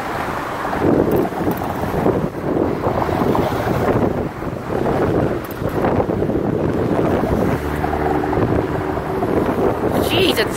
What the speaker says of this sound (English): Jeez, it's windy here.